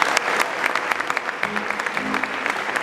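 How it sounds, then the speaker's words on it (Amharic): Crowd applause at a church healing and testimony gathering, with brisk clapping and sharp individual claps standing out, steady and close throughout. "እስቲ አጨብጭቡላችሁ"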